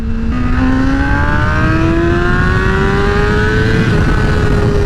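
A 2008 Honda CBR600RR fitted with a Vortex quick-acceleration chain and sprocket kit pulls hard in second gear from about 45 mph, its engine note climbing smoothly and steadily in pitch, loud and close over constant wind rush.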